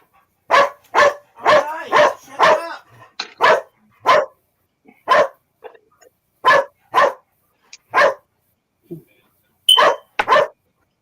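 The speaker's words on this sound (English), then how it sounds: "You hear those dogs?" Several dogs bark loudly and close by in a rapid, irregular series of sharp barks that continue for the whole stretch, with short pauses between bursts and no other sound.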